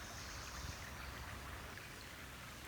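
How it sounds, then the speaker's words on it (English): A creek flows steadily outdoors, its broad, even rush of water continuous and fairly faint throughout, with no voices present. "I heard the creek behind me today as well."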